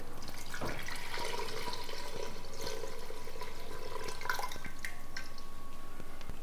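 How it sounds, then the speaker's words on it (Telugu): Water poured into an earthen pot holding peeled ripe mangoes for mango curry, a steady trickling splash running continuously at moderate volume, with no voices. "నెక్స్ట్ మనం దీనిలోకి వాటర్ యాడ్ చేసుకోవాలి."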